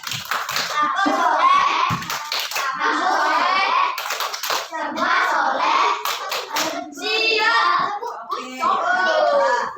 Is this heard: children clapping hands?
yes